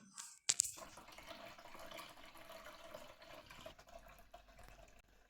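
Water gently poured off settled wheat starch into a vessel, a soft continuous trickle and splash close by, with a brief sharper clatter near the start.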